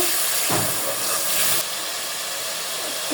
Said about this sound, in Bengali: জিরা এবং ধনিয়া বাটা এক টেবিল চামচ শুকনো মরিচ বাটা আধা টেবিল চামচ ভালো করে ভেজে নিব